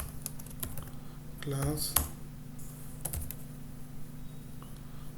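Keys clatter in quick, uneven taps as HTML code is typed on a computer keyboard, fairly close and moderately loud, with a steady electrical hum underneath and someone talking over part of it.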